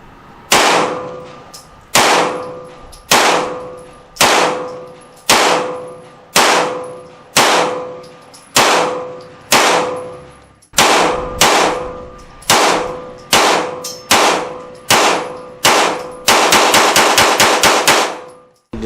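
A Daniel Defense H9 9mm pistol fires at a range: about a dozen loud single shots spaced roughly a second apart, each with a ringing metallic tail, then a rapid string of shots close together at the end.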